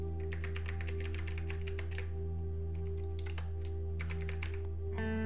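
Someone types a name on a computer keyboard while setting up Kali Linux in VMware Workstation Player, with rapid clicking bursts and brief pauses over a steady low machine hum.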